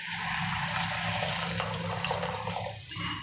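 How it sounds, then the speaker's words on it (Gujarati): Buttermilk pours into a pot of simmering Kathiyawadi dhokli curry, a steady, close rushing and splashing liquid sound that eases briefly before continuing. "પછી એમાં આપણે છાશ નાખશું એકથી દોઢ ગ્લાસ"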